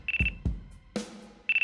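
Telephone ringing in the video game Ace Attorney Dual Destinies, short electronic ring bursts separated by brief gaps and mixed with a few thumps and a clatter, fairly close with no speech.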